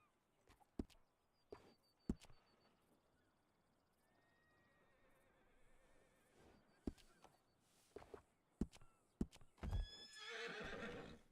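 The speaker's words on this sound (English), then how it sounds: "we got a couple of horses here to choose from" Horses on a ranch whinny and neigh faintly and at a distance, scattered hoof knocks and thumps sounding in irregular bursts before a louder, longer neigh near the end.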